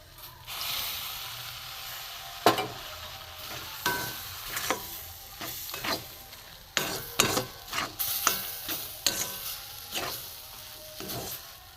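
Liquid milk is poured into a ghee-fried mixture for danadar dough, giving a soft hiss and sizzle with repeated scraping and stirring strokes against the pan, close and without voices.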